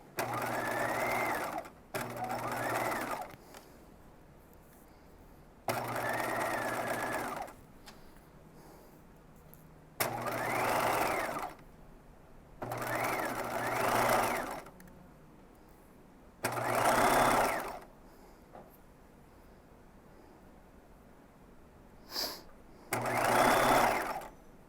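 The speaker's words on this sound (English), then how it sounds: "you can see I have sewn the entire elastic around the neckline" A sewing machine stitches elastic around the lining neckline of a wiggle dress, running in a series of short, loud bursts of several seconds each, separated by quiet pauses.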